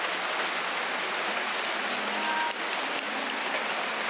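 Steady rain falls on a rural rice-harvest field in the Philippines and hisses evenly over a surface, close and fairly loud. It runs without a break for the whole stretch, with no voices.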